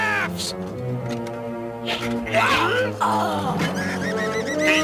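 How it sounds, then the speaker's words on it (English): A bird caws harshly several times in a fantasy animated adventure series, loud squawking calls over a busy orchestral score. "Be gone, foul bird!"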